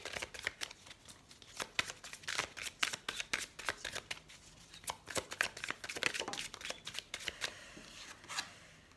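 Oracle cards shuffled and drawn by hand: crisp, irregular riffling and card snaps, close and fairly quiet, in uneven bursts without talking.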